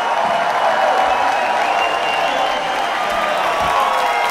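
A festival crowd claps and cheers for a blues act in Istanbul, a dense, loud wash of applause sustained throughout, close and continuous with a faint murmur of voices.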